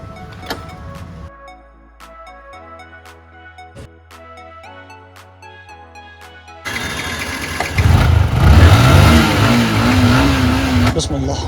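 A motorbike repaired after an accident starts up with a sputter, then its engine revs hard and drones loudly at close range as the ride gets underway, after a stretch of music-like tones.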